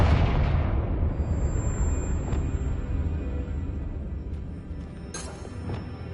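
Confringo fire spell in the Hogwarts Legacy video game: a loud blast opening the clip, with a rumbling roar that slowly fades over several seconds and a few faint crackles near the end.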